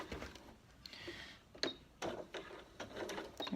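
A sewing machine stitches a zipped pocket into a bag lining along a boxed outline, with short bursts of rapid mechanical whirring and needle ticks separated by brief pauses, quiet and close.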